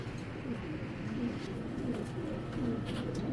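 Pair of Musaldom pigeons cooing steadily throughout, a dense, continuous low murmur of overlapping coos at close range with no talking.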